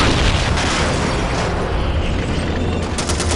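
A loud, sustained video game explosion in Call of Duty 2: a dense, booming rumble with crackling bursts throughout and a few sharp pops near the end.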